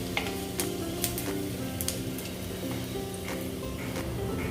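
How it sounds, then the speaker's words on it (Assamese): Panch phoron seeds and bay leaves sizzle steadily in hot oil in a kadai, a dense crackling hiss with a few sharp pops and ticks, close and continuous with no talking. "তেল গৰম হৈ অহাৰ লগে লগে ইয়াতে দিছোঁ পাঁচফোৰণ 1 চামুচ, তেজপাত"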